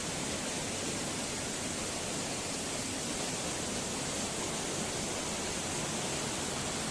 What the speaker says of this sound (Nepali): झाँक्री फल्स हेर्नुहोस् है, तपाईँहरूले खालि मुनिबाट मात्रै देख्नु भएको होला, माथिबाट चाहिँ यस्तो देख्छ है।